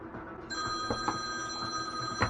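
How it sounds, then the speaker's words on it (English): A telephone bell rings steadily with a sustained electronic tone over a busy background, heard during DIY yacht refit work on a partition aboard the Queen Bee. "And here comes the phone call."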